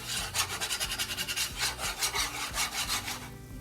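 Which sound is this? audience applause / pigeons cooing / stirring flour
stirring flour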